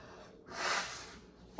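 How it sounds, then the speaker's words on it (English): A person blows their nose once in a short, breathy honk that swells and fades within about a second, close to the microphone with nothing else around it. "let me blow my nose real quick."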